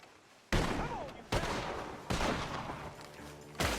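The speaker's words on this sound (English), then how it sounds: "Gunshots are coming." Gunfire in Red Dead Redemption 2 comes as four loud, sharp shots spaced unevenly, each with a short ringing decay, while voices are briefly heard between them.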